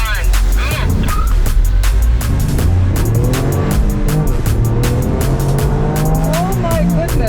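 A Toyota GR Yaris launches hard in a drag race against a rival car, its engine roaring near and loud with rising revs through the gears and tire noise, while a voice talks excitedly over it.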